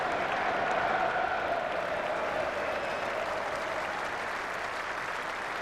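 A cricket crowd at an England v Sri Lanka Test match applauds a batsman's century innings, sustained broad clapping from a large stadium audience that slowly eases off.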